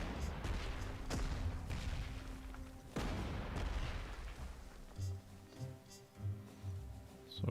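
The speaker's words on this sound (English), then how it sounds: "Alright, we'll bombard them." Artillery bombardment in the Panzer Corps 2 strategy game, a dense run of booming blasts and crackling impacts that rolls on continuously, then thins into scattered lower thumps toward the end.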